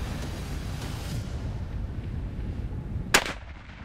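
A single loud rifle shot fired at a Cape buffalo on an outdoor safari hunt cracks sharply near the end, after a few seconds of rumbling wind and background noise.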